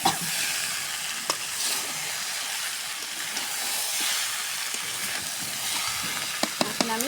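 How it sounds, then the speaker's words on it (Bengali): Spices are sautéed in a wok (kadai), giving a steady, moderately quiet sizzling hiss throughout with occasional light scrapes and clinks of a spatula, no talking. "মশলার সাথে আমি কষে নিচ্ছি।"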